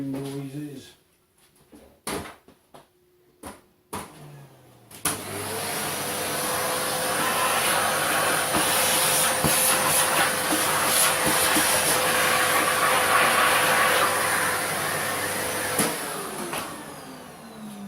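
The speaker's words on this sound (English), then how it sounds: "there's going to be some noise now, some hoovering noises" A vacuum cleaner hoovering out a machine in a workshop during dismantling work. A few loud knocks and clunks come first, then the hoover starts with a steady, loud roar, runs for about eleven seconds and cuts off.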